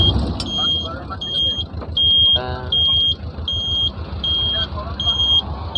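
Steady road traffic rumbles along a service road beside the Chennai Outer Ring Road, with repeated beeping from a vehicle and a passing horn, while someone talks over it.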